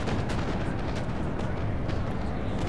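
Musket volleys crackle and boom without pause through a Napoleon: Total War battle, a dense, loud wash of massed gunfire with no clear gaps between shots.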